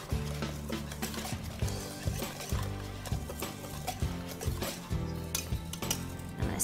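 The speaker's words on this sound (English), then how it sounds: "you're gonna dump that into your dry ingredients. And we're gonna mix it up" Dry and wet protein bar ingredients for lemon protein bars being mixed in a bowl, giving a steady run of close scraping and knocking strokes with a regular rhythm and no talk.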